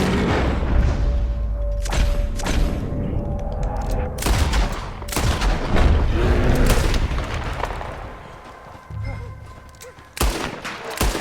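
Gunfire at a bear in the western game Red Dead Redemption 2, with several loud, close shots spaced a second or two apart over rumbling background noise.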